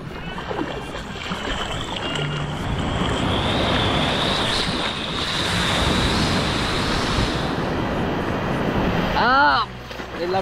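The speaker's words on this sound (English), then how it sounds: "The waves, guys." Ocean waves at Cagwait Beach in Surigao del Sur, a loud, continuous wash of surf rolling in close by for about ten seconds, with a short tonal chirp near the end.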